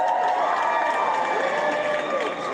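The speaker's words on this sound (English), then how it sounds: "Clap, round of applause." A live comedy show crowd claps and cheers together in a steady, dense wash of sound, with whoops and voices mixed into the applause the whole way through.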